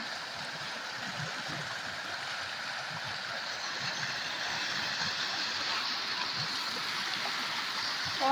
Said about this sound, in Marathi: आलेला आहे पूर